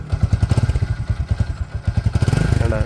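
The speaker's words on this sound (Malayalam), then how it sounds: "ജസ്റ്റ് ഒന്ന് ഓൺ ചെയ്ത് കാണിച്ചുതരാം സൗണ്ട് കേട്ടാ നല്ല മുഴക്കാണ്" A 2017 Bajaj V15 motorcycle engine idles with a deep, loud, rhythmic thumping, its pulses picking up slightly toward the end; no voices.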